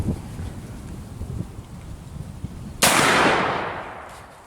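A single loud blast from a Rossi Tuffy .410 single-shot shotgun fired at a steel target about 45 to 50 yards away on an outdoor range, a sharp crack that trails off into a long decaying echo after quiet rustling.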